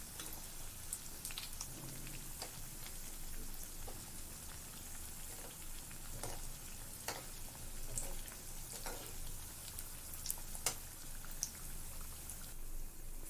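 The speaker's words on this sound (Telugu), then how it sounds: "లో ఫ్లేమ్లోనే కుక్ చేసుకోవాలండి, లేకపోతే లోపల పొటాటో ఉడకదన్నమాట." Potato bajji fry in oil on a low flame, giving a soft, steady sizzle and bubbling crackle with scattered small pops, fairly faint and without talk.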